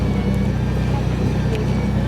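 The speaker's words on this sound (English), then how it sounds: "focus on the driver, Mr. Stuart Dybel, who's going to drive it off beautifully from the stage" Supercar driving off the stage at a concours of elegance trophy presentation, a steady low engine rumble close by and fairly loud, with faint crowd voices underneath.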